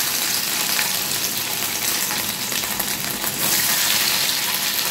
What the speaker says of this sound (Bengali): এবার আমি একে একে এগুলো ভেজে নিচ্ছি